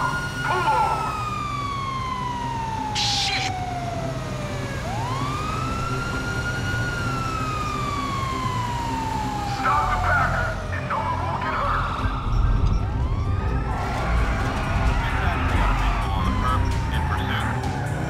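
Police sirens in the video game Grand Theft Auto V, wailing and sweeping up and down continuously and fairly loud during a chase, with engine noise, crashes and brief voices mixed in.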